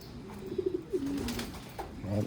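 Pigeons cooing in a loft of cock birds, several soft, low rolling coos repeating close by with faint rustling and a brief higher sound near the end.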